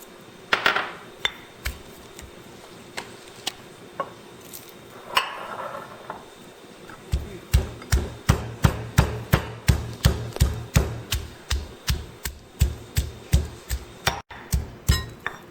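Garlic pounded for fish sauce, likely with a pestle in a mortar, in a kitchen: a few scattered knocks give way to a steady run of sharp, close, evenly spaced thuds that continue to the end, with no talking.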